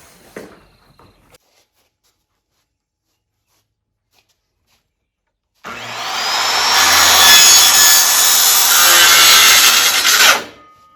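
Saw cutting PVC pipe to length, a steady loud grinding rasp lasting about five seconds after a quiet pause, preceded by brief handling clatter.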